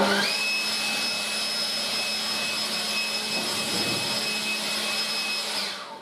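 A Ryobi 40V battery leaf blower, 525 CFM, running on turbo gives a loud, steady whining roar that holds evenly for several seconds before cutting off near the end.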